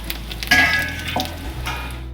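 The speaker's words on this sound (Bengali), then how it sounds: "আমি তেলটার মধ্যে শুকনো লঙ্কা ফোড়ন আর জিরে ফোড়ন দেবো" Dry red chillies and cumin seeds dropped into hot oil, a sudden loud sizzle that bursts up and slowly settles into a softer crackle over a couple of seconds.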